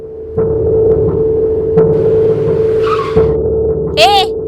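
A car skids and brakes on a road with tires squealing to a halt, loud and close, beneath a steady engine hum and a rising whine near the end.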